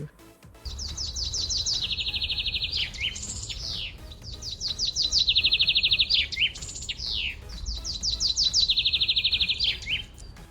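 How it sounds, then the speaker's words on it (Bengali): A sparrow chirps in quick repeated bursts, rapid trilling runs of bright notes that come in three clusters over a faint background hum, close and fairly loud, with no voices. "চড়ুই পাখি দেখতে খুব সুন্দর"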